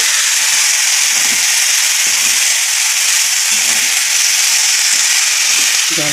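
Dried watermelon pieces hit a hot pan with coriander and cumin and sizzle loudly. A dense, steady hiss fills the whole stretch up close, with no break.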